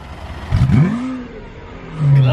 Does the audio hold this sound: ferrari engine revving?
yes